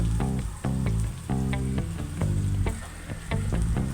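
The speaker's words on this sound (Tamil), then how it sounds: "அப்படியே வந்து நம்ம சிக்கனை எடுத்து கடாயில் போட்டுருவோம்" Chicken pieces sizzle and crackle as they fry in a hot kadai for Chintamani chicken, a steady close frying hiss under a rhythmic, tonal backing, with no voices.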